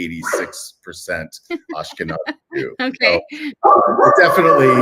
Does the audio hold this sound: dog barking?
yes